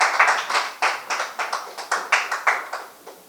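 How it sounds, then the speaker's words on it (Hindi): A small group claps after a correct answer at an inter-office quiz, with a dozen or so uneven bursts of handclaps close by. The clapping is loose and irregular, with no voices. "बिल्कुल सही जवाब। जोरदार तालियां।"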